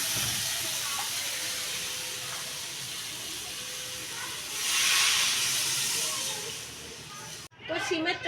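Water poured into a hot pan of spiced cauliflower gives a steady, loud hiss of sizzling steam that swells briefly before a voice starts speaking near the end.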